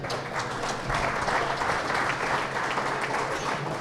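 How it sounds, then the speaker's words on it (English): An audience at a regional water summit gives a round of applause, a dense and steady wash of clapping that holds at an even level for several seconds without a break. "so give him a round of applause."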